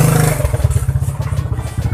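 Manual clutch motorcycle engine idling close by, with a steady, low, pulsing chug. No talk over it.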